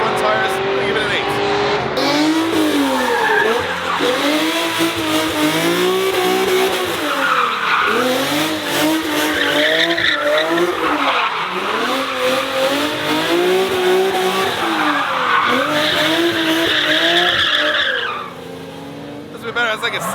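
A car drifts in the burnout box at a UAE drift event, with loud, sustained tire squeal and skidding over a roaring engine for most of the clip, fading out near the end.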